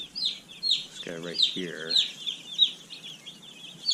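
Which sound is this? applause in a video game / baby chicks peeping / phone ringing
baby chicks peeping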